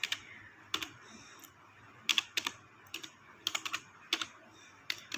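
Someone types an Excel formula on a computer keyboard, producing quick, close clusters of key clicks separated by short pauses.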